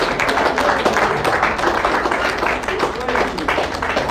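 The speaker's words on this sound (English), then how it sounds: "Let's clap for them" An assembly crowd at a professional gathering keeps up sustained applause, a thick, even wash of many hands clapping at close range, with faint voices mixed underneath.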